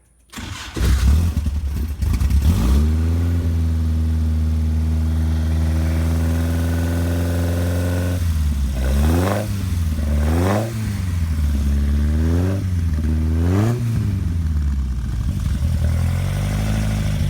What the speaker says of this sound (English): I'll give it 2 stabs of the accelerator.